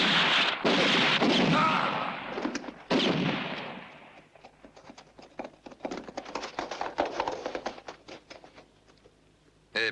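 Western film shootout: heavy gunfire and booming blasts fill the first seconds over shouting voices, then give way to a rapid, irregular crackle of distant shots that gradually thins out.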